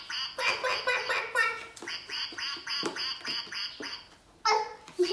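A voice imitates a duck, quacking in a quick, steady run of repeated quacks, close and fairly loud, with a brief pause before a few more quacks.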